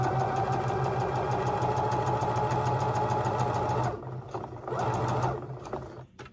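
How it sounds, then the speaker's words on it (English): A sewing machine stitches a seam on a mermaid-style prom dress, a close, steady, rapid mechanical whir that runs for about four seconds, then stops and restarts briefly before winding down. "sew along that line that I just drew, and with the one you just drew on your skirt as well"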